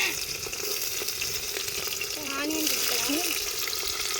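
Onions fry in oil in a pan, a steady close sizzle and hiss with light stirring, and a voice speaking briefly over it.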